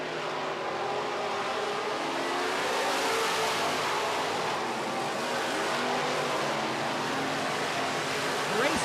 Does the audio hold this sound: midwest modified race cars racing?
yes